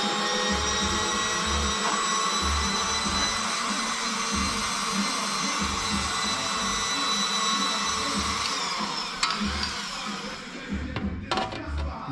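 An aluminum floor pan panel for a turbo body-swapped Miata is run through a tensioned wheel tool to fold its edges, giving a steady loud whirring grind with rhythmic low thumps that thins out and breaks up near the end.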